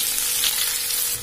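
Chopped large onions hit hot oil with browned chana dal, giving a steady, close, bright sizzle and frying hiss that fades slightly at the end, with no voices.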